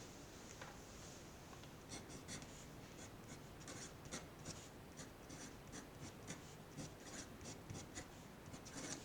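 A pen scratching out a drawing of the nitrate ion, with quick irregular strokes and taps over a faint steady background hiss, close and quiet, with no speech.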